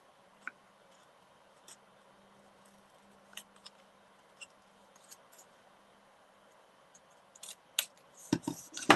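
Scissors trim card stock for handmade card making. Faint, sparse snips and ticks are spread through a quiet stretch, then quicker, louder cutting and paper handling come at the end.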